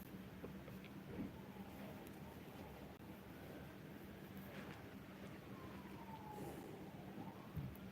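Distant police sirens wail and rise over a steady background hum, faint and far off, with no talking nearby.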